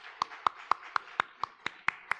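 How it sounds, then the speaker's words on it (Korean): A church congregation claps in unison during a Sunday worship service, with sharp, evenly spaced claps at a brisk, steady rhythm, about nine crisp beats in quick succession. "우리 하나님께 찬양과 영광의 박수를 올려드리겠습니다"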